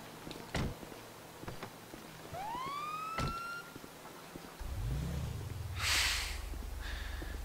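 A police car siren sounds in GTA V, a single rising electronic whoop that lands among clicks, thumps and engine rumble, moderately loud with no talk.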